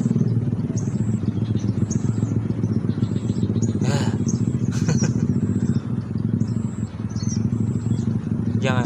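A motorcycle engine roars close by with a steady, rattling drone, briefly dipping and surging as it passes back and forth.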